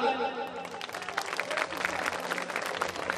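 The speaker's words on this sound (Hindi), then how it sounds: "एक जोरदार ताली।" An audience at a jagran, a Hindu devotional night gathering, bursts into applause as a sustained tone fades, and the clapping builds into a dense, even patter.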